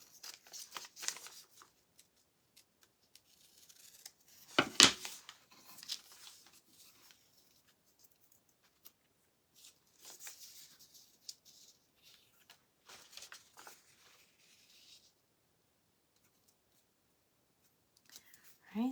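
Scissors snip away white material during a red, white and blue craft project, a few close cuts and rustling paper handling spread across the stretch with quiet pauses between.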